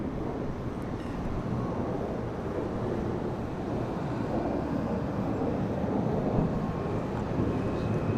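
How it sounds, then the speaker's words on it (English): An Embraer ERJ 145 regional jet departs Charlotte Douglas airport on a windy day, its steady roar blending with continuous gusty wind buffeting the microphone for the whole stretch, with no talk. "so another ERJ 145 departure."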